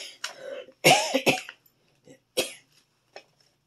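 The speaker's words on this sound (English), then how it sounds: "I have a cough." A person coughs several times in close, harsh bursts with short pauses between, loud and dry in an indoor room, with no talking over it.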